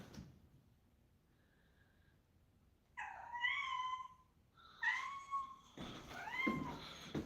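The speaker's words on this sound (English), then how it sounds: "He's a smart cat." A cat meows indoors several times in close succession, drawn-out, wavering calls rising and falling in pitch after a few seconds of near silence, with a faint soft thump near the end.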